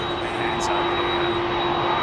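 Jet airliner engines, CF6 or Pratt & Whitney turbofans, hum steadily at Heathrow Airport, a constant droning roar with a fixed tonal whine throughout.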